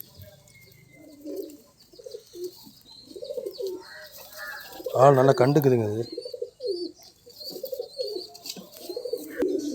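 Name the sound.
pigeons cooing during flying practice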